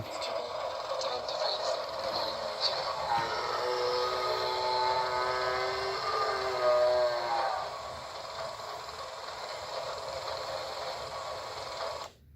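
A mechanical toy plays a hissing, whistle-like steam effect with rising tones, steady for several seconds before cutting off abruptly.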